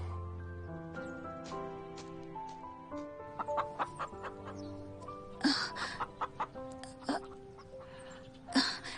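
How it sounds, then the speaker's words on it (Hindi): A rooster clucks in short, repeated bursts that rise and fall over a soft musical background, with the clucks getting louder toward the end. "और वो वाला मुर्गा कितना डरावना है।"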